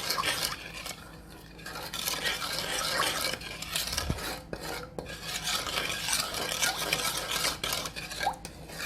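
Sweet and sour chicken sauce made with ketchup being stirred in a pan, a close, busy rasping scrape of a spoon against the metal with a single dull knock partway through.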